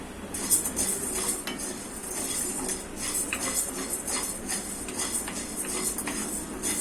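Sabudana dry-roasting in a pan over a gas flame, stirred with a spoon, giving a steady close scraping and light rattling clatter of the pearls against metal, continuous and fairly loud with no talking.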